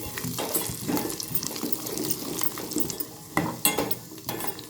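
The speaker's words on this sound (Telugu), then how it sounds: "డ్రై ఫ్రూట్స్ మొత్తం ఫ్రై అయినాయి." Cashews, almonds, pistachios and raisins frying in hot ghee for peanut jaggery laddu, a steady watery crackle with a few clinks and stirring scrapes near the pan, no talk.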